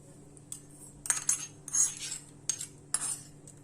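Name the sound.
spoon mixing appe batter in a bowl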